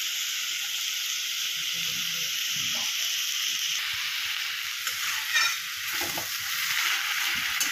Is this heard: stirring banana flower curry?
yes